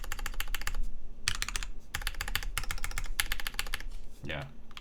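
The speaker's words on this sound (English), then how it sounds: "The backspace might actually be one of the better sounding keys here." Rapid clattering keystrokes on a modded mechanical keyboard, including the backspace key, come in quick bursts with short pauses, close and clear. A voice briefly speaks near the end.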